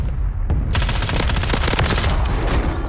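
Battle rifle gunfire in Modern Warfare III, a fast, loud, close burst of rhythmic shots that starts after a brief quieter moment and keeps hammering to the end.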